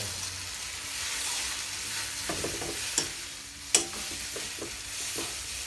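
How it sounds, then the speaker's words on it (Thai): Marinated pork stir-fries with garlic in hot oil, a steady loud sizzle with scattered clinks and scrapes of a spatula against the pan, close up and with no talking. "ให้กระเทียมมัน พอเหลืองนิดๆนะครับผม หมูที่เราหมักแล้วเนาะใส่ลงไป"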